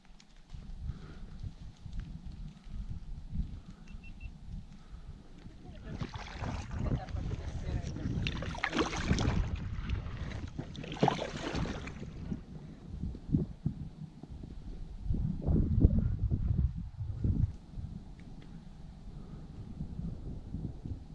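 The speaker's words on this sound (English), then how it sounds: "we made use of the canoe and went for a paddle on the lake" Canoe paddling on a lake in Killarney Provincial Park, Ontario: near water churn and rhythmic paddle splashes with wind noise, louder in the middle stretch, under faint background sound.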